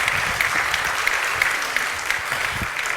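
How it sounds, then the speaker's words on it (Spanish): Church congregation applauding to the Lord during a sermon, a close, steady roll of many hands clapping throughout, with no break. "Un aplauso al Señor,"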